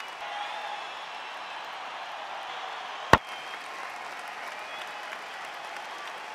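Video-game cricket crowd applauding a six: a steady, even wash of clapping and cheering throughout, broken once midway by a single sharp, loud crack.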